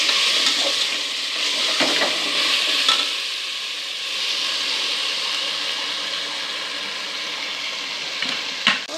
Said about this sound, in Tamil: இப்போ இதெல்லாம் நல்லா வதங்கணும்.